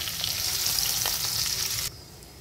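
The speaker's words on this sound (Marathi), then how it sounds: "हिरवी मिरची घालूयात." Green chilies sizzle and fry in hot oil for a potato and capsicum dish, a close, steady crackle that stops abruptly near the end.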